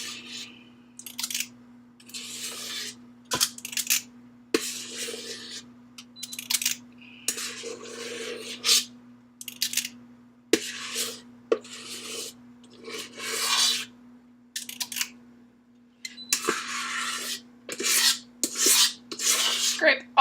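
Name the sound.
spatula scraping cupcake batter out of a mixing bowl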